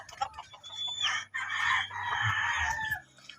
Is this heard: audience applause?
no